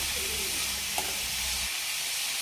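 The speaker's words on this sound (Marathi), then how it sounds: "असंच आपल्याला फोडणीमध्ये परतून मुळ्याची भाजी शिजवून घ्यायची आहे" Radish pieces sautéing in hot tempering oil, a steady close sizzle with faint stirring scrapes that drops away near the end.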